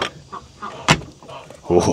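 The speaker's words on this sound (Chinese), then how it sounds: "我把鸡给它放出来，让它在外面待一会儿" Backyard chickens are let out of their coop, with a sharp clatter from the coop door and scattered clucking nearby, while soft voices murmur in the background.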